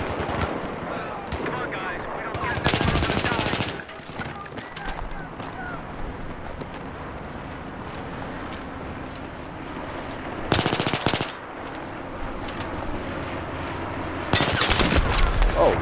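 G36 rifle fire in a first-person shooter game, several sharp rapid bursts spaced through the clip over a steady background din, with voices talking in between.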